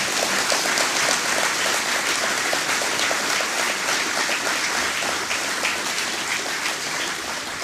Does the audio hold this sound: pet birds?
no